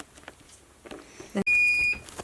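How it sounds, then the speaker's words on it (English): A single sustained electronic beep from a heat press signaling it is done, high-pitched and steady for about half a second, following some faint handling clicks. "this press machine beeps when it's done, annoyingly, so you know when it's done"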